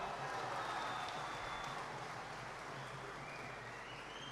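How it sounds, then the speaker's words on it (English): A stadium crowd at a Sri Lanka vs DPR Korea FIFA qualifier football match, a steady wash of distant cheering and applause that holds at an even level throughout. "The crowd steadily getting into the game."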